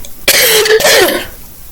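A single harsh, raspy cough bursts out close and loud, rough and throaty, then trails off into quiet.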